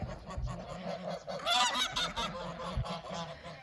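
Geese honking on a small farm, several loud, close honks in an overlapping burst, with no talk.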